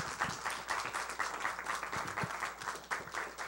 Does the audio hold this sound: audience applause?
yes